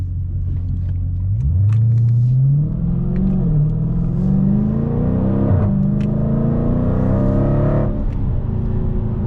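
A 2020 Dodge Challenger Scat Pack accelerating hard, its loud engine note rising steadily through the gears with brief dips at shifts, heard close from inside the car with no talk.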